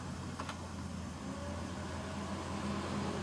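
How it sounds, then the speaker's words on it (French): The ventilation fan of a 1956 Chevrolet Bel Air blows with a steady, even broadband whoosh and a faint low hum, unbroken and fairly close, with no talk over it. "On entend la ventilation en tout cas."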